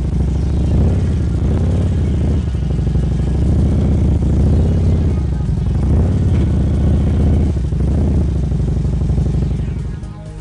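A motorcycle engine idles and putters steadily at low speed through a slow weave around cones set about twelve feet apart, with gentle rises and dips in engine note as the rider throttles through each turn, close and continuous.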